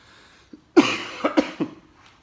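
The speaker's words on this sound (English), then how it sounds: "I still have a cough." A short burst of harsh coughs, three or four in quick succession, close and loud after a brief quiet moment.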